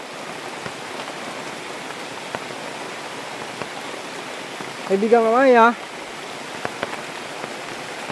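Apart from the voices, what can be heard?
heavy rain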